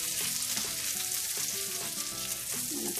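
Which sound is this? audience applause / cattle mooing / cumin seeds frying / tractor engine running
cumin seeds frying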